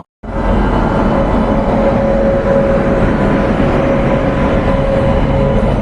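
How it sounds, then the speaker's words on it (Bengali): A train pulls into a station with a loud, steady rumble and a roar of wheels on the rails, plus a thin sustained whine, close by and continuous throughout. "আমাদের তো ফাইনালি আমাদের ট্রেন চলে এসেছে।"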